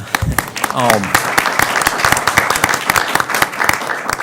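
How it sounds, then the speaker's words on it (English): Dense applause from a crowd, steady clapping filling the room throughout, with a brief voice near the start. "let's give him applause"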